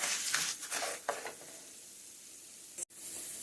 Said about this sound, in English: I'm going to keep stirring until it's kind of like I said, pinkish brown